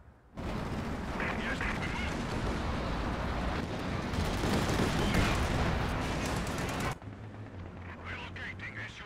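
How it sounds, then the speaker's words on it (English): Katyusha rocket barrage in the World War II game Company of Heroes 2: a loud, continuous roaring volley of rocket launches and explosions lasting several seconds, then cutting off abruptly into quieter battlefield rumble. "Send Death with Katyusha rocket barrage."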